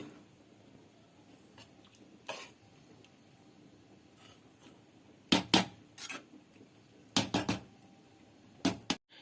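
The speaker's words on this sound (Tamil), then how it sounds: "இப்போ வந்து பார்த்தீங்கன்னா நம்ம லைட்டாக கலக்கிட்டு மூடி வச்சிடலாம்" A spoon clinks and knocks against a pot of village-style Kola fish curry during stirring, followed by several sharp metallic clatters as the lid is set on, close and quiet against a faint room background.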